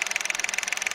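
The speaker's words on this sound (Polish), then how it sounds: "Oto sobie pyrka, silniczek litrowy w gazie." A 2021 Renault Clio with a 1.0-litre three-cylinder engine idles on factory LPG, giving a steady, evenly pulsing putter heard close up with no voices.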